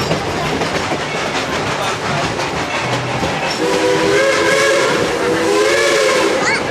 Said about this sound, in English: we're going on the train ride over here